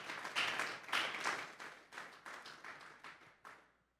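A church congregation applauds together in a strong wave of clapping that rises quickly, then fades over a few seconds into scattered, thinning claps.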